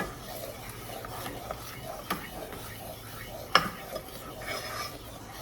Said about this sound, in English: I'm going to use the trusty wood spoon. And I'm just stirring it in.